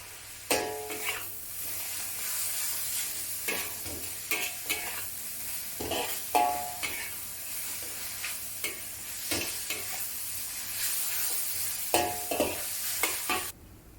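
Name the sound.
mushrooms and vegetables stir-frying in a wok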